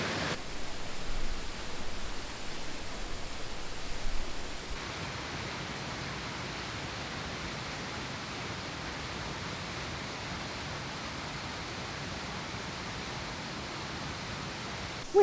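Steady, broadband rushing of a large waterfall, constant and enveloping, slightly louder in the first few seconds, with no voices.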